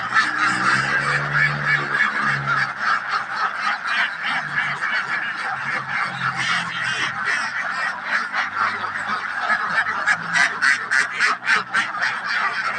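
A flock of around 500 ducks on a duck farm, a constant chorus of overlapping quacks and honks, close and loud, with rapid repeated calls building toward the end.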